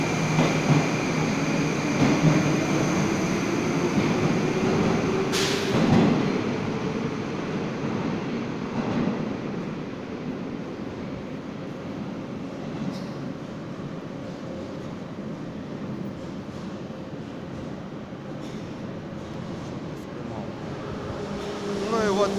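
A new Moscow metro train pulls into Petrovsko-Razumovskaya station, a steady rumbling roll with a brief high squeal and clank, filling the platform at moderate level before easing slightly.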